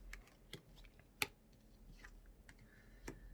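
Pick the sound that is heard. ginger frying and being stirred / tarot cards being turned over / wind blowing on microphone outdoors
tarot cards being turned over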